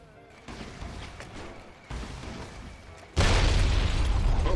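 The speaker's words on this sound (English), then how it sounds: "Let's try out the holy frag." A holy frag grenade goes off in Fallout: New Vegas with a deep, heavy boom, and its rumble swells into a sustained, louder roar near the end.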